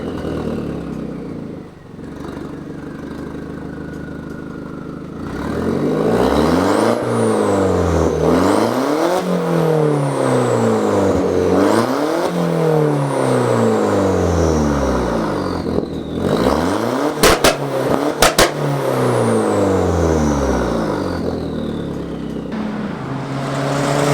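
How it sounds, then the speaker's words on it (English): A Volkswagen Jetta MK4 with the 1.8T engine and a fully straight-piped exhaust revs repeatedly, loud and close, each blip climbing and falling away, with a few sharp pops and crackles between revs. "I wanna give you guys a chance to hear what the car sounds like completely straight piped."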